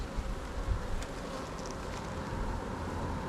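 Honeybees buzzing quietly inside an opened hive in winter, a soft, steady hum of many bees close by with faint wind and no talking.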